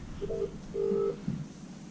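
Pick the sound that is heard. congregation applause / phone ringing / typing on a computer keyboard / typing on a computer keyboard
phone ringing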